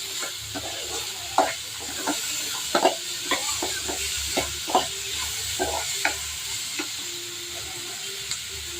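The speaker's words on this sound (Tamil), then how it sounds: "இது வதக்கி கொஞ்சம் தண்ணி ஆட் பண்ணி கொஞ்சம் கொதிக்க வைக்கலாம்." Tomato and onion sauté in a pan for a white gravy, a steady close sizzle with repeated stirring scrapes and knocks of a spoon against the pan, no voices.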